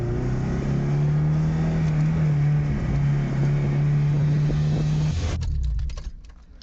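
A Honda Civic engine runs steadily while driving with a low droning hum, loud and close, then cuts off abruptly near the end, leaving a few faint rattles.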